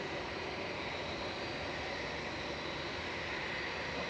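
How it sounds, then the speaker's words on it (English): A Loganair airliner arriving from Aberdeen on approach to land at Manchester Airport gives a steady, broad engine roar that stays constant and fairly distant throughout, with no voices. "That's Logan Air coming in from Aberdeen next to land."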